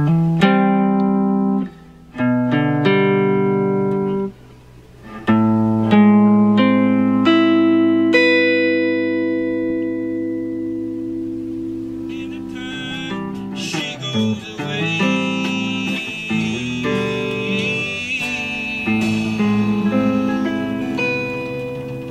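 Acoustic and electric guitars play the ending of a song, with strummed chords, sustained ringing notes and a louder, effects-laden electric passage building toward the close.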